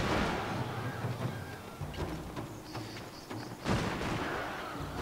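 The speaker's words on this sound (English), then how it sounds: "My matchlock Ashigaru just opened fire on these guys and mowed them down to less than half." Matchlock ashigaru musket volley in Total War: Shogun 2, a ragged crackle of distant gunfire popping through dense battle din, with a sharper burst near the end.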